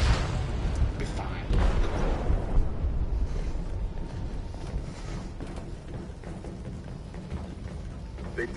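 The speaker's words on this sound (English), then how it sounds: "They detonated an explosive in the hold." Explosive detonated in a ship's hold in Detroit: Become Human: a deep, muffled boom swells early, then fades into a low, sustained rumble, with voices murmuring over it.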